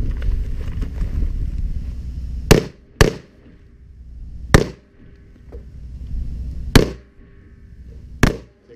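Five sharp rifle gunshots ring out during tactical firearms training, spaced unevenly over several seconds, each loud and cracking with a brief decay, over gusty wind noise.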